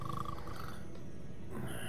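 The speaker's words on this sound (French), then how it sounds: "Il ronfle, oh là là." A goblin snores in Hogwarts Legacy, a low, growling rumble that rolls on steadily and close throughout, with no talk over it.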